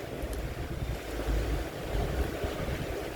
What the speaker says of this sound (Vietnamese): Mưa gió lớn quá.